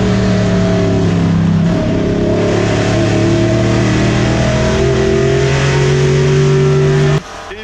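Boss Mustang and Ford Escort race cars battling at Goodwood, loud engines roaring and revving continuously up close before the sound cuts off abruptly near the end.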